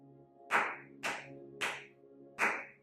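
Hand claps used as a camera sync slate, four sharp, separate claps spaced roughly half a second apart, close and crisp over a faint steady hum in a quiet room.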